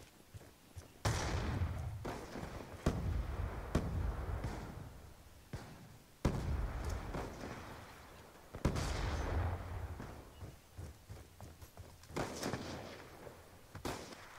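Gunfire from a video game: loud, sharp single shots and short volleys spaced irregularly, each with a booming low tail, close and dominant with little else around them.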